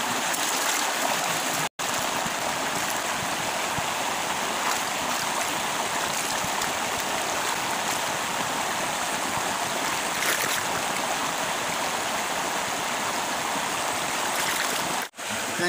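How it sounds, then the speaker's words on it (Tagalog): Freshwater spring water seeping and trickling near an eel's burrow outdoors. It makes a continuous, close, fairly loud rushing wash with no talk over it. "may tubig na may tumatagas na tubig"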